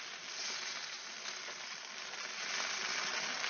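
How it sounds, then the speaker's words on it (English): Bacon-wrapped chicken sizzles in a hot oven, a soft, continuous crackling hiss that stays steady and close throughout with no talk. "when we open it up, of course, we're getting some sizzling goodness happening."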